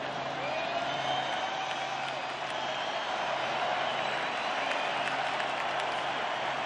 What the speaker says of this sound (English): This crowd is trying so hard.